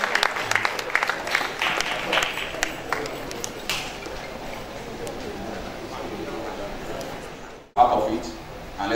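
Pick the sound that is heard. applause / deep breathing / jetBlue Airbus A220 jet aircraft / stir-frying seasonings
applause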